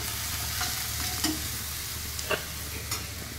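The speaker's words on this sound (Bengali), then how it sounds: "এখানে পেঁয়াজ রসুন ভাজা হয়ে গেছে। আমি আদাটা দেওয়ার আগে একটু হলুদ গুঁড়ো দিয়ে দেবো।" Onion and garlic fry with turmeric in a pan, a loud steady sizzle with a few sharp scrapes and taps as a spatula stirs them, heard up close with no talking.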